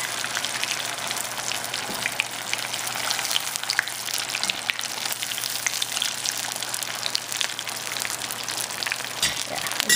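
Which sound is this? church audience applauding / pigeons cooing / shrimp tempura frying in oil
shrimp tempura frying in oil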